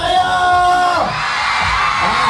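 A crowd cheers and shouts loudly, with many overlapping whoops and yells in a dense, sustained roar.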